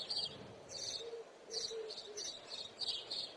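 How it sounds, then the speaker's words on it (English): Birds chirp outdoors in short, repeated bright bursts at a moderate distance, faint against a quiet background hum, with no talk. "You can hear the birds"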